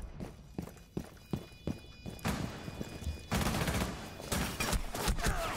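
Rapid gunfire bursts in the tactical shooter Rainbow Six Siege, first as spaced single shots alongside footsteps, then a dense, loud fusillade of overlapping rounds in the closing seconds.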